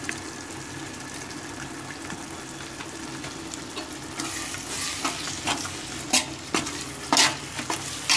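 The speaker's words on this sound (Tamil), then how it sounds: "தக்காளி நல்லா வறுபடுற வரைக்கும் ஃப்ரை பண்ணணும்" Oil sizzles and crackles steadily as tomatoes fry with chili powder for mutton biryani, with scraping stirring sounds and sharp bursts of spattering toward the end.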